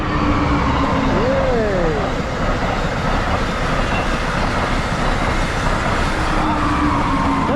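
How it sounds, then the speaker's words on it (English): An Amtrak passenger train rumbles past close by, a loud, steady roar of wheels and rails that barely changes throughout. "That train is fast. That's Amtrak."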